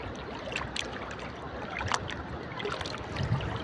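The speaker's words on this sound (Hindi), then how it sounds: "देख रहे हो सामने खतरनाक सैलाब आ चुका है" Dangerous flood water rushing in a torrent, a continuous broadband roar with splashing bursts, close and steady with no talking.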